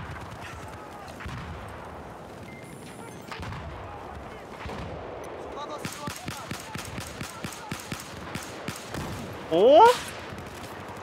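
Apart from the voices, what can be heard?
gunfire in a video game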